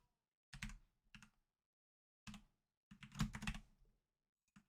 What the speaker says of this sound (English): I'm using the keypad on my computer keyboard. The 0 key creates rests.